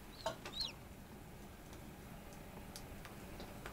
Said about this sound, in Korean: 부화 장치에서 병아리가 태어났습니다.